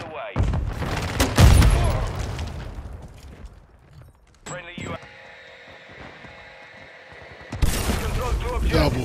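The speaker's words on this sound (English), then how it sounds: "Friendly airstrike on the way." Explosions from an airstrike in a shooter video game, with loud booms and gunfire-like bursts at the start and again near the end, a mechanical hum in between and game voices talking throughout.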